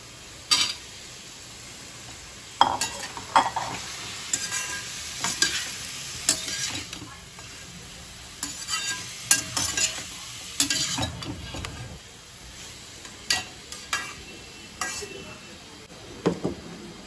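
Chopped ash gourd sautés in a sizzling pan, with a spatula scraping and clinking in repeated stirring strokes over a low background fry, no clear speech.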